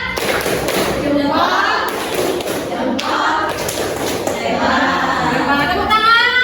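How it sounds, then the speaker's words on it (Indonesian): Applause in a classroom for a student group: a loud, close, uneven patter of clapping hands from students that swells and fades in waves, with brief pauses and some voices mixed in. "Tepuk tangan."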